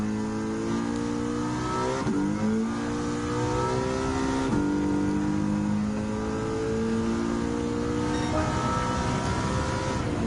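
A 2015 Ford Mustang GT race car in Gran Turismo 7 roars steadily around Watkins Glen International, its engine climbing in pitch and dropping at each gear change, loud and continuous with no voices.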